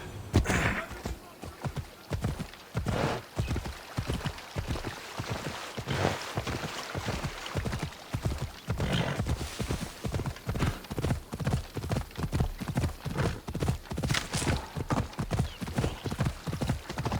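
Steady hoofbeats of a galloping horse ridden in the video game Assassin's Creed Odyssey, a fast, even clip-clop rhythm throughout with occasional snorts, game ambience, and voices speaking over parts of it.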